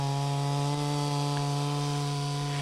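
A chainsaw carving wood drones steadily at high revs up close, its buzzing engine tone holding constant without pause.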